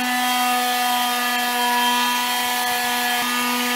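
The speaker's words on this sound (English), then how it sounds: "Are you just sanding it down?" Wood being sanded down by hand at a mission-trip work site, a steady continuous rubbing hiss with a droning mechanical hum running underneath throughout, fairly loud and close with no speech.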